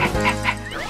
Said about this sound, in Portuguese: O primeiro ator a ser contratado foi esse lindo Lhasa Apso, que na trama será o Floquinho